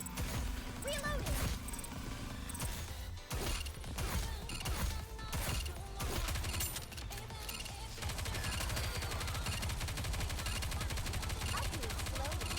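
Rapid gunfire from the video game Goddess of Victory: Nikke, dense overlapping bursts and automatic fire running steadily throughout, with game voice lines over the shooting.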